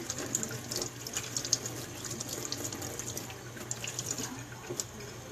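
A paintbrush is rinsed under a running tap, a steady close stream of water with small irregular splashes as the bristles move through it, no voices.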